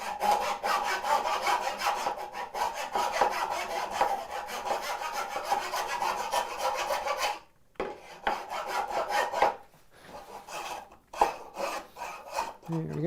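A chisel paring and scraping wood to clean out a tight bridle joint in window joinery, a long rough rasping scrape close by, broken by a short pause and then resumed in uneven strokes.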